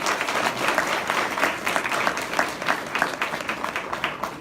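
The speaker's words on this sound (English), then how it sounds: "let's give them another round of applause" Audience applause at a town hall meeting for the 95th District: dense, steady clapping from a room full of people, with individual claps popping through the wash for a few seconds and no one speaking over it.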